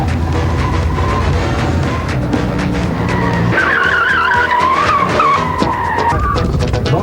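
Loud tire squeal from a Cosworth or Porsche skidding during a driving test, engine roar underneath and a sustained screech building in the middle, with no talking.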